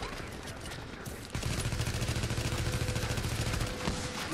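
Gunfire from the video game The Division: after a quieter opening, a rapid burst of shots runs loudly and steadily for a couple of seconds, then fades.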